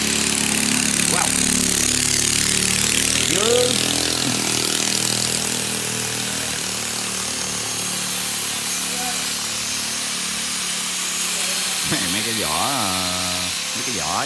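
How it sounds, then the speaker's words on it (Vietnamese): A power tool grinds the cut edge of a piece on a 7.7 m boat build, a continuous harsh whine and hiss that runs the whole time while someone talks over it. "giờ trước tiên mình mài cạnh này trước"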